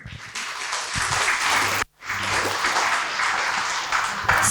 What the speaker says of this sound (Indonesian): beri tepuk tangan yang meriah untuk Rudy Andanu